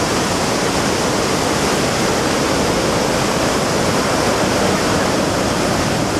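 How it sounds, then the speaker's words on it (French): Iguazu Falls roaring on the Brazilian side, a loud, steady, dense rush of falling water that fills the whole stretch without a break or any voices. "Et en face de l'autre côté, les autres cascades, c'est le côté argentin."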